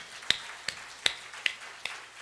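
A church congregation claps during a Sunday worship service at Seoul Gimpo Yeonggwang Church. Five sharp, evenly spaced claps sound faint and distant over a quiet background.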